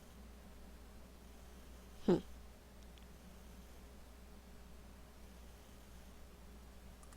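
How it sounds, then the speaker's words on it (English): A single sharp burst of static crackles on a tape recording in Nancy Drew: Haunted Carousel. The short loud crackle stands out over a faint, steady hiss, and quiet tape noise follows. "Did you notice that burst of static just before the carousel started to turn?"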